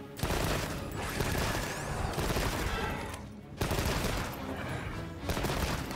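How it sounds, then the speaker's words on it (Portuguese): Light Bowgun from Monster Hunter Wilds firing rapid shots in quick succession, a loud, dense barrage of gunfire bursts with two brief lulls, continuous and close. "Use a energia de disparo rápido para disparar várias vezes seguidas."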